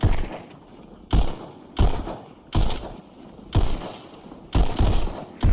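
Gunshots from the VR game Pistol Whip ring out in six sharp bursts roughly a second apart, each loud crack trailing off into a ringing decay.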